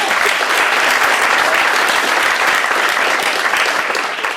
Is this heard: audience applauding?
yes